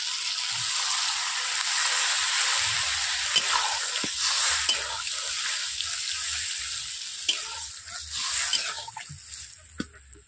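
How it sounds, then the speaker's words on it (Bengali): Water poured into a pan of potatoes and pointed gourd frying in oil, a sharp sizzling hiss settling into softer bubbling, with a few clinks of utensils. "এরপর আমি জল দিয়ে দিচ্ছি।"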